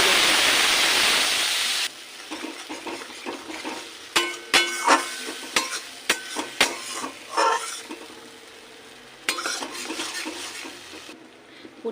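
Mustard paste hitting hot oil tempered with kalo jeera for mustard hilsa: a loud initial sizzle, then quieter frying broken by repeated sharp scrapes and clatters of a spatula stirring in the pan.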